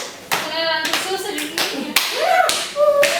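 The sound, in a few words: hand clapping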